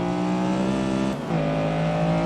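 A Honda Civic EG6 engine in Assetto Corsa revs steadily at low rpm with a dense harmonic drone, dipping briefly midway before pulling again; loud and constant, no talk.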